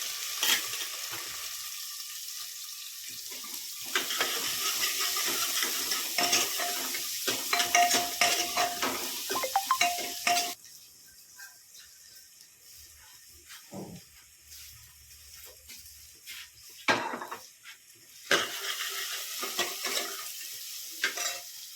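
Onion frying in a pan in a village home kitchen. It starts with a loud, crackling sizzle and scrapes of stirring, then drops to a quieter hiss broken by short bursts of sizzle and utensil clatter.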